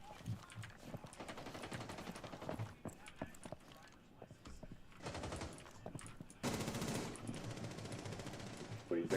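Sustained automatic gunfire in the tactical shooter Rainbow Six Siege, rapid bursts cracking continuously over about nine seconds with a louder stretch near the end, while voices talk over the shooting.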